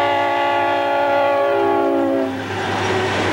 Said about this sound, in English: A rare GP35 is among locomotives wearing brand new CSX paint as a westbound